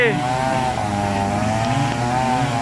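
An Isuzu engine drives a water pump on a tracked machine, running at a steady, loud, droning pitch with a slight waver, close by and continuous for the whole stretch.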